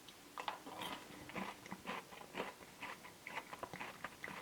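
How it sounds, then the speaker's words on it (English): Someone chews a Ferrero Pocket Coffee espresso chocolate up close, producing a quick, irregular series of soft, crisp crunches that are faint and unaccompanied by talk. "I will give this a good chew now, and maybe you can hear some of the crunch a bit better."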